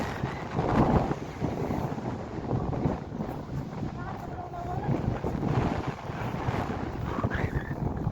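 Strong wind buffets the microphone in a steady, heavy rumble at an exposed hilltop viewpoint in Nepal, gusting throughout while people talk beneath it.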